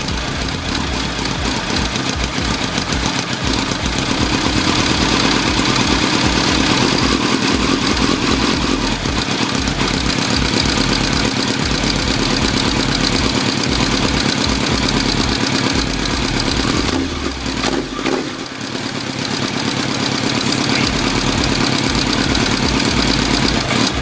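A motorcycle engine started on choke after sitting for years idles loudly and close with a steady rumble, briefly dips as if stalling near the end, then picks back up.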